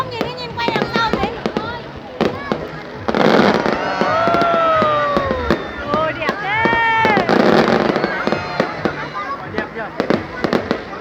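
A fireworks display in Hai Duong bursts repeatedly, with loud crackling booms and rising whistles close by, while people in the crowd talk and exclaim throughout.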